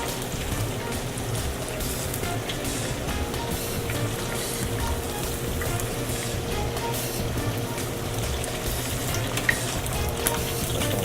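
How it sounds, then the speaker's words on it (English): Thin-sliced plantains frying in vegetable oil, a dense, steady crackling sizzle close by that holds evenly throughout, with a few faint stirring knocks. "take our sliced plantains, we slice very thin, and we'll drop it in our oil"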